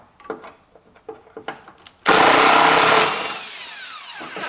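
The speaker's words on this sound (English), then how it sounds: "Okay, and then I open these bolts." Bolts come loose on the brake master cylinder and booster assembly of a 1995-era Toyota Corolla, first a series of sharp metallic taps and clicks, then a loud sustained whir of a power tool spinning a bolt, close and alone.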